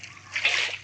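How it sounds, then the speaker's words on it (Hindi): Water bucket emptied in the Minecraft video game, a single soft splash that swells and fades over under a second, alone with a faint steady hum beneath. "रुको, मैं अपना पानी का बकेट ले के"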